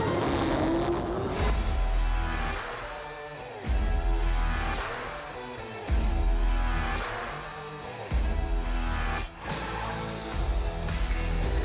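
A GTR on a quarter-mile record run in Martin, Michigan revs hard in repeated bursts, engine rising and dropping in pitch with sharp breaks between pulls, loud and close throughout.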